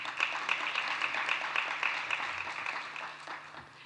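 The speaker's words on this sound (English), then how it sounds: "I would like to invite you all to give a big round of applause to the panelists" Applause for panelists at a conference session, a steady patter of many hands clapping in a hall, moderately loud and fading slightly toward the end.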